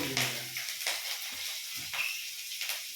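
Onions frying in a pan with cumin seeds give a steady, close sizzle with crackling pops and stirring scrapes, and a few brief voice fragments come and go over it.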